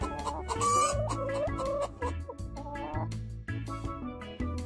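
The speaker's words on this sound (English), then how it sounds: "Hen." A hen clucks in a rapid run of short, close calls with a few pauses between groups.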